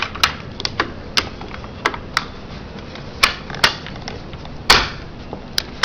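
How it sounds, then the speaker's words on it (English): Metallic clicks and taps as the top cover of an airsoft AK is fitted back on after a bolt modification, a string of sharp close-up clacks at an uneven pace, no speech. "And then you're just going to put your top cover back on."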